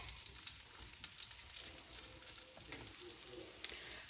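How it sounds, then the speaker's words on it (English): Half a link of sliced smoked sausage fries in a pan for breakfast, giving a steady, dense sizzle with small crackles and pops, close and fairly quiet, with no talking. "we have half a link of some smoked sausage sliced up and just frying it over here in the pan"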